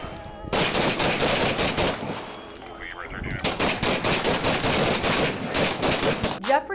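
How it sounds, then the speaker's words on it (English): Police body camera captures gunfire being exchanged at a scene: rapid loud bursts of shots in quick strings, a short lull, then another sustained volley of closely spaced cracks. "gunfire was exchanged"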